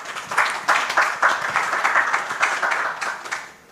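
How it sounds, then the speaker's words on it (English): A conference audience applauds a panel moderator, a head of responsible AI, with steady, dense clapping that swells quickly and carries on for several seconds before tapering off at the end. "Can we give her a round of applause?"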